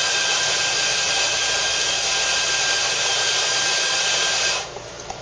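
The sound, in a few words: coffee grinder grinding for a double ristretto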